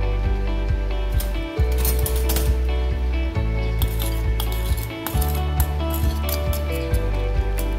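A spoon stirs an egg and carrot mixture with salt and seasoning in a bowl, making repeated clinks and scrapes over a steady low hum.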